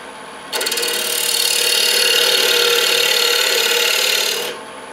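A large parting tool cuts into a spinning wood blank on a lathe while turning a pocket mirror, a steady bright scraping hiss lasting about four seconds, close and loud, then stopping abruptly.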